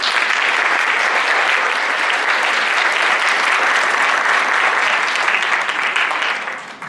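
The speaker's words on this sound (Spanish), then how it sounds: "Les brindamos un fuerte aplauso." Strong, sustained applause from a conference audience welcoming a speaker at a talk on sexual harassment, a thick, even roar of many hands clapping for about seven seconds before tapering off at the end.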